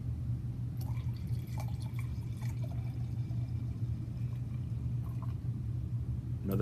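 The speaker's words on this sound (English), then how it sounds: "Let's go for another pour." Wine pours into a glass with a steady liquid gurgle, broken by a few small clinks and drips. A low constant hum runs underneath and no one speaks.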